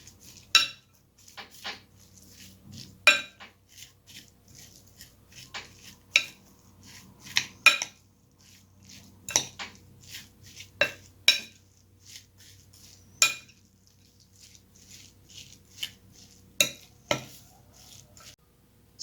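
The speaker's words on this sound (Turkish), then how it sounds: "Harcımızı güzelce karıştırıyoruz." Minced meat filling with spices being mixed in a bowl, sharp irregular clinks and taps of a utensil against the dish scattered across a quiet background, close and alone.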